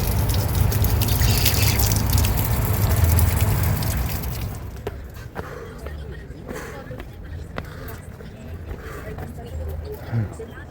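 Public drinking fountain in Rome with water running steadily and splashing loudly at first, then fading to lighter trickles and drips amid outdoor street ambience and footsteps.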